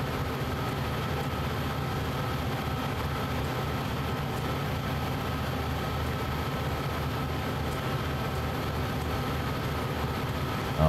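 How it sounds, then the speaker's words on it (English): A train rumbles steadily through a tunnel in Train Sim World 2 on the Sand Patch Grade, a constant, loud, enclosed roar with a low droning engine tone and no pauses or voices. "The train is still going through the tunnel."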